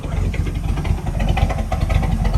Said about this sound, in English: It will start idling a little bit better once you give it some gas